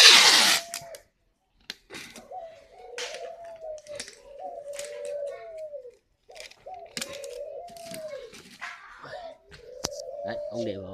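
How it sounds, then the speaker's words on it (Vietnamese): Pet pigeons, kept as doves for sale, coo in repeated low, rolling phrases close by. People talk and other scattered noises break in between the calls. "Tầm này chim nó khỏe."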